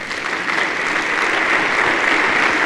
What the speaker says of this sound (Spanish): ¿Podrás darle un aplauso al Rey?